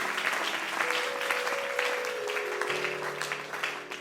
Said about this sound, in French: Tu peux bien acclamer le Seigneur